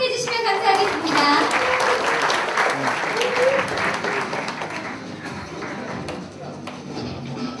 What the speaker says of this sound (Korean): 이 시연을 박수로 환영해 주시면 감사하겠습니다